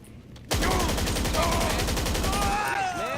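Rapid sustained automatic gunfire in GTA 5 Online, a dense unbroken burst of shots starting abruptly and running loud and close for nearly three seconds before cutting off.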